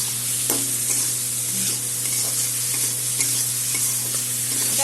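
Vegetables fry in a pan with salt and turmeric, cauliflower among them, stirred steadily: a constant sizzle under repeated scraping and clinking of the spoon, close and fairly loud throughout.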